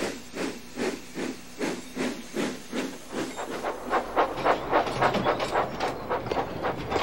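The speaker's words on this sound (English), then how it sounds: "Edward is chuffing cheerfully through the countryside." A cartoon steam locomotive chuffs cheerfully through the countryside, its rhythmic hissing puffs speeding up and growing louder over a steady rolling rumble.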